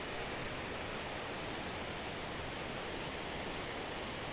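Wallaman Falls in Australia, the country's highest permanent single-drop waterfall, gives a loud, broad, unbroken rush of water and spray that stays steady throughout, with no talking.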